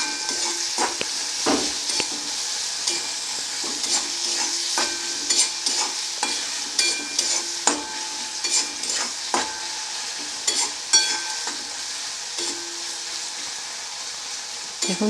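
Onions frying in salted oil in a pan, a steady bright sizzle with frequent scraping clicks of a spoon stirring them, close and continuous with no talk.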